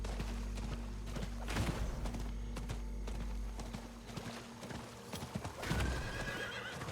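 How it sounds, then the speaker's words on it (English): A horse in the Diablo video game clip-clops along steadily through the whole stretch. Several loud whinnies and neighs cut in over the hoofbeats, with no talking. "Horsey will take us back where we need to be."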